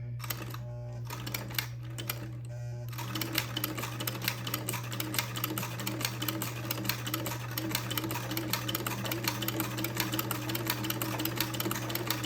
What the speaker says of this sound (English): now I will proceed to make a buttonhole